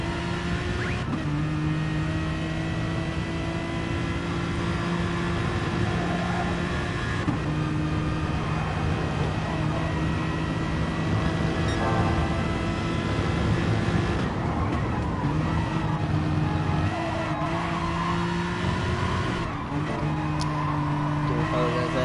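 Race car engine in a racing video game at Lake Maggiore, a sustained engine whine with stepped pitch changes as it comes down the gears into a hairpin, steady and loud, with a commentator talking over it.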